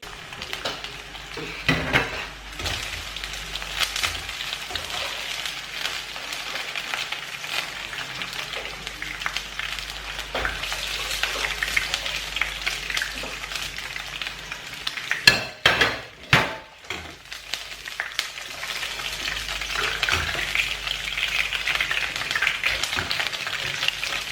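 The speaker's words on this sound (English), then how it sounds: "I'm going to be frying the chicken" Continuous sizzling of chicken frying in a pan, with occasional scrapes and clinks of a utensil stirring, a louder clatter midway.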